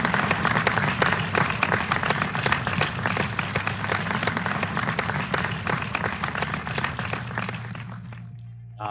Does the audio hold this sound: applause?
yes